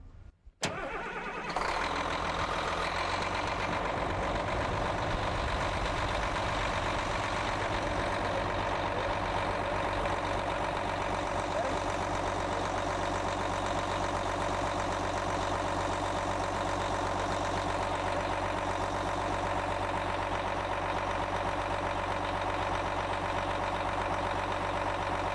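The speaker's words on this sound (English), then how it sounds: "I'm going to have my assistant go ahead and start the machine up for us now." A Caterpillar machine's engine cranks and catches, then settles into a steady, loud idle that runs on alone without pause.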